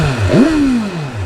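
A motorcycle engine rises in pitch as throttle is added, the revs swelling and then sliding back down to idle in one smooth, close, loud sweep with no talk over it.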